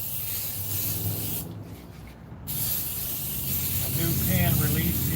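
Pan release is sprayed into a skillet in a home kitchen, a brief hissing burst over a noisy background, with a person talking quietly at the close.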